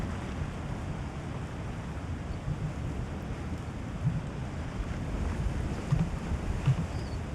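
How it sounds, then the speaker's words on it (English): Steady wind and washing waves roll on in a sailing video game, a continuous blustery rush with low surging swells and no voices. "So it is rather windy."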